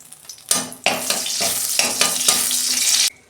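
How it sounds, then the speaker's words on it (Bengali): Three dried red chillies hitting hot oil in a wok, bursting into loud, close crackling sizzle that surges in waves as they are stirred, then cuts off abruptly. "ওই কড়াতেই আমি তেল দিচ্ছি। দুটো শুকনো লঙ্কা দিচ্ছি, 3টে।"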